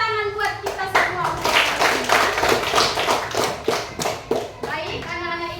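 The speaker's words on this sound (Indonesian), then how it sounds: "tepuk tangan buat kita semua" Children in an elementary school classroom clap together in a rhythmic, patterned burst of hand claps, loud and close, with a voice briefly heard among them.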